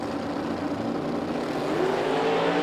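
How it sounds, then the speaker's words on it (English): A drag race car engine roars steadily and loudly, its pitch slowly climbing as it spools up at the start line, with constant crowd and track noise around it at a muscle car drag racing event. "So Tovener is pre-stage, going to hear him start to spool that thing up"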